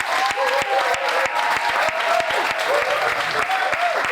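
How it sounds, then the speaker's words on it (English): An audience gives a round of applause at a book launch with a live band, lively crowded clapping with sharp individual claps, close and loud throughout. "can we have a round of applause for Chantel, please?"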